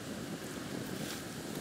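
Wind blowing outdoors in a forest art park near Venice, a steady, loud rush of noise across the whole clip, with buffeting on the microphone and no voices.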